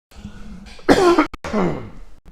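Two close, sharp coughs in quick succession, the second followed by a rougher throat-clearing hack, loud against a quiet background.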